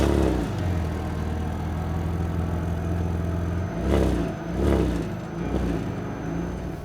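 An Alfa Romeo 156 GTA engine rumbles at a steady idle, then revs sharply two or three times, each surge swelling loud and close before dropping back, in a garage setting.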